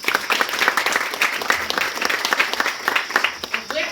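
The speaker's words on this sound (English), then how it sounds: "Let's clap hands for ourselves." Lively clapping from an audience at a women's celebration event in Zimbabwe, dense and close, with individual claps standing out in a continuous burst and voices mixed in.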